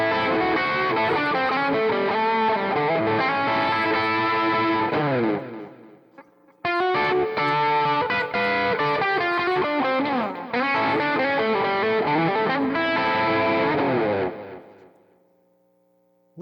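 A Fender Telecaster partscaster on its bridge pickup plays with light overdrive and a touch of reverb, strummed chords ringing in three bursts separated by short gaps, loud and close, no voice.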